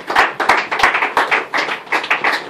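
A few people clapping close by in a loose, uneven rhythm, each clap crisp and distinct, roughly three claps per second with no other sounds.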